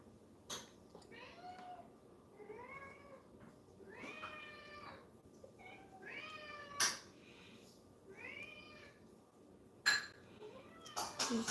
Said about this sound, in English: I love how their like little meows still like sound like little kittens.